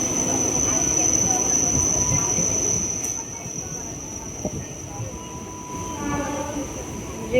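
Inside a moving Mumbai local train: a continuous rumbling roar of wheels and carriage with a steady high whine, easing somewhat partway through, with faint background voices.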